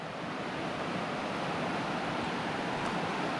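A river rushes past a campground with a steady, broad, unbroken roar of flowing water, close and fairly loud, with no voices.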